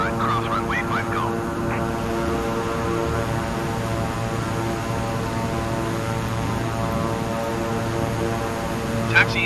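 Beechcraft King Air 350i turboprop taxiing in Microsoft Flight Simulator 2020, a steady droning engine hum with layered tones that holds level throughout, with a brief clipped radio call near the start.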